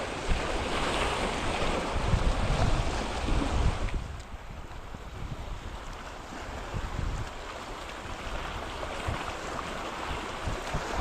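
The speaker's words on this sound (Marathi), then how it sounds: "आता बघा कसं झालं एकदम लाटा लाटा आली साधारण साधारण हवा सुटली" Choppy waves slapping and churning on open water with steady wind buffeting the microphone during a fishing outing, loud and continuous, rougher at first and settling slightly.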